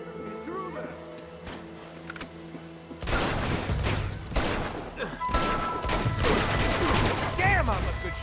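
Gunfire in Uncharted bursts in suddenly after a quieter stretch of ambient tones, then rapid overlapping shots and machine-gun fire follow loud and close, with a voice briefly heard among them.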